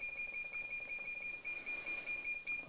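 A DRO readout on a machine tool beeps in a fast, regular train of short, high electronic tones while a DTI holder is adjusted, fairly faint and steady with no talking.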